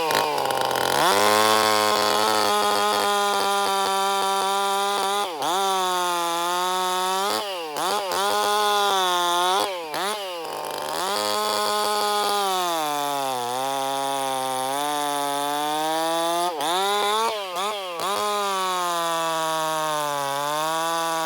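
A modified chainsaw runs loud and close, its high engine note holding steady between short revving dips and surges, with no talk.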